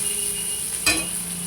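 Onion and green chili frying in oil in a Bengali kitchen, a faint steady sizzle with a brief stir or clink near the middle, close by and with no talk.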